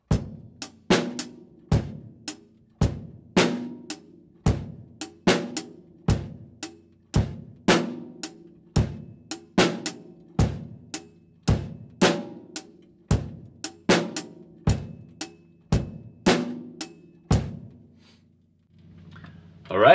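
A steady drum kit groove with a bass drum and snare pattern, about twenty sharp loud hits in a regular rhythm near the microphone, repeating for the whole passage with no voice over it.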